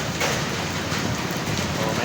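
Heavy rain pours steadily in a rainy-season downpour, a dense, continuous hiss of water striking surfaces close by, filling the whole moment without a break.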